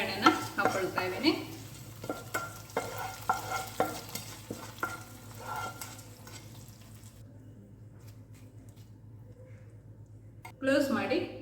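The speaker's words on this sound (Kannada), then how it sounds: "ಈಗ ಒಗ್ಗರಣೆನ ಹಾಕ್ಕೊಳ್ತಾ ಇದ್ದೀನಿ." Tempering for a chickpea curry crackles and sizzles in hot oil in a pan, with stirring scrapes over the first several seconds before settling to a faint hiss, then a short loud burst near the end.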